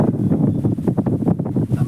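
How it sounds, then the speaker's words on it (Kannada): Strong wind roars loudly and continuously, buffeting the microphone with gusty rumbling throughout. "ಗಾಳಿ ಅಂತೂ ಮಸ್ತ್ ಅಂದ್ರೆ ಮಸ್ತ್ ಬೀಸೈತಿ."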